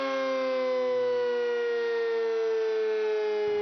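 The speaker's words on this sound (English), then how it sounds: "the emergency sirens are blown for fire drill." A loud, steady emergency siren drones continuously during a fire drill, its tone sliding slowly downward before it cuts out.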